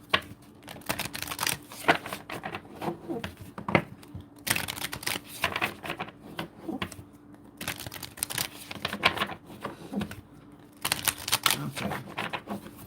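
Tarot cards are shuffled repeatedly in bursts of rapid riffling and shuffling, close and crisp, with short pauses between rounds.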